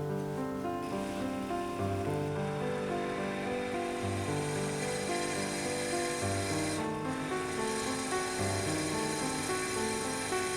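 A drill bores steady pin holes through a brass clock plate from behind, a steady grinding whir with layered harmonic tones running continuously, close and alone without talk.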